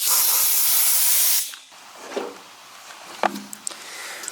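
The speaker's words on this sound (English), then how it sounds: "we are going to blow it off with some compressed air" Compressed air blowing off prepped car interior trim pieces before black spray paint, a strong steady hiss lasting about a second and a half, then stopping, followed by faint handling clicks.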